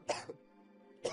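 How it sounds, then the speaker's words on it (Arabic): A man outside a door coughs twice, two short harsh bursts about a second apart, close and fairly quiet with a faint hum between them. "فاجأها سعال باغة الذي يقف في الخارج"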